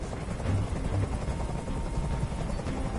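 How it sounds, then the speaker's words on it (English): A video game helicopter hovers nearby with a steady, dense low rotor rumble and whine, filling the whole moment without pause. "I can't stand that noise anymore. Tell that helicopter to get out of here."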